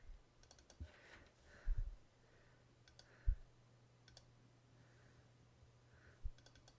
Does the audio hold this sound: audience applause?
no